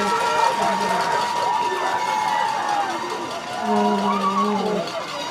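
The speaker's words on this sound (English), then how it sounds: "Hear the crowd go wild." A crowd at a midget-level youth football championship game cheers and roars steadily after a touchdown, a distant sustained wash of voices with a commentator talking over it.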